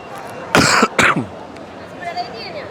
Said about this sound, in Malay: Nampak terus batuk saya